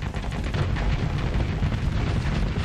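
A spaceship blows up in the Starsector space combat game, producing a loud, dense, continuous roar of rumbling blast noise that fills the whole moment without letting up.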